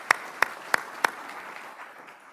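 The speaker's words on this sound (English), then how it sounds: "Let's give him a big round of applause." A brief round of applause at a military change-of-responsibility event for an Army Materiel Command command sergeant major: four sharp, well-spaced claps up front that quickly thin out and fade into quiet room noise.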